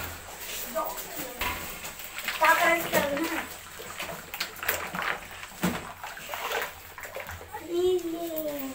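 Cooked ice candy mixture is poured into a large container, with splashing and sloshing liquid heard close up while voices, including a child's, talk over it.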